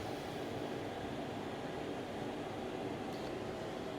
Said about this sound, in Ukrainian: А ще у мене воно вентилятор у мене працює, забув сказати.